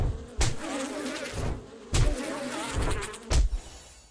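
Insect buzzing from bees in the 7 Days to Die video game, a wavering drone with three louder thumping bursts spaced about a second and a half apart, no talking over it.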